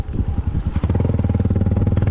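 A motorcycle rides over rough, rocky ground at a lanzones farm, its engine thumping in a steady loud, rapid pulse with rattling over it, heard close and alone.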